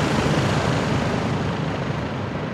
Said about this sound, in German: Ein Heli ist im Anflug.